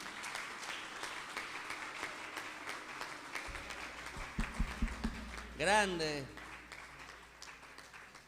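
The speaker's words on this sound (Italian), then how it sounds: "un applauso a lui" Applause fills a theatre for the cameraman during a live comedy show in Rome, sustained clapping throughout, with someone speaking and shouting over it partway through.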